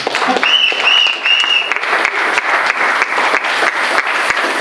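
A church congregation applauding during a service, a loud dense wash of clapping from many hands with a brief voice or cry at the start.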